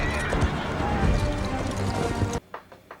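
A horse clatters in a charging battle scene from The Rings of Power, hooves and a whinny thick under music and clamor before the sound cuts out abruptly near the end.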